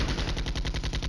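Anti-tank gunfire in the war game Flashpoint Campaigns: Red Storm comes as a rapid, even string of about ten heavy, booming reports, loud and relentless throughout.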